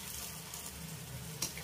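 Whole cumin seeds and garlic paste frying in hot oil make a brief, steady sizzle with soft crackles and one sharper spit.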